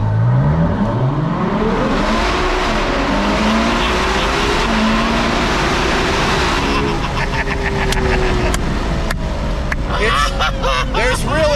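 A 2021 Ferrari 812 GTS, front-engined, accelerates hard in first gear from low revs inside a tunnel. The engine note rises loud and close with echoing roar, then changes gear and revs again, with a voice briefly heard under it.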